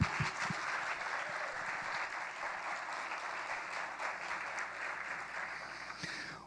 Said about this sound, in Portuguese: Então, palmas!